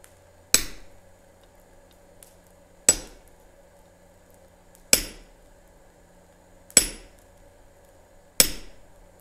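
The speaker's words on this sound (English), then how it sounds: "and we're going to chisel in some teeth here." Five sharp metal strikes of a hammer on a chisel over an anvil, cutting teeth into hot steel at a live forge demonstration, spaced about two seconds apart with ringing decay and a faint steady hum between blows.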